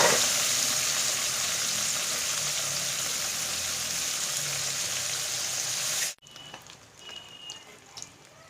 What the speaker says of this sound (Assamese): মাছকেইটা ভজা হৈছে